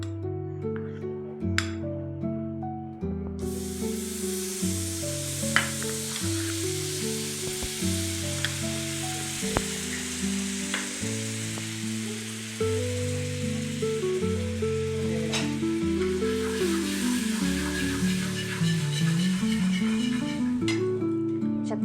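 Butter melts on a hot griddle for pav bhaji, a bright, continuous sizzle rising after a few seconds and holding steady, heard close under loud, rhythmic background music.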